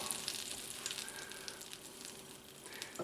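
Bread frying in melted butter in a pan for a peanut butter banana sandwich, a faint, steady sizzle with light crackle, close and unbroken, no talk.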